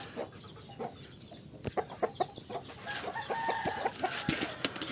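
A hen clucks repeatedly in quick uneven bursts, with other fowl chattering and rustling nearby, growing busier toward the end.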